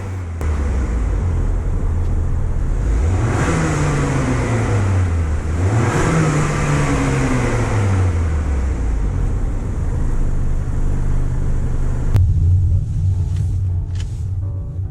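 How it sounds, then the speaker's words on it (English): A 2021 Acura TLX engine revs twice in normal mode, then twice more in sport mode, each rev a rising and falling pitch sweep over a steady idle rumble, with no voices. "Now let's hear some revs in normal mode. And let's hear some revs in sport mode"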